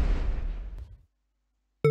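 A bomb goes off in a Save The Lady puzzle game: one loud, deep, rumbling blast that decays over about a second, then silence and a brief bright game chime at the end.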